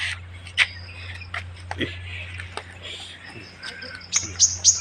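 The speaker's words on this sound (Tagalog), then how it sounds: "Oh, narinig nyo yan. Ang mga ibon oh." Several birds chirp and call in bright, scattered bursts over a steady low hum, with a faint voice now and then, in the morning.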